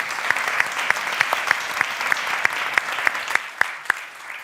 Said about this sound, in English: Join me in a round of applause to our speakers and for the beautiful panel.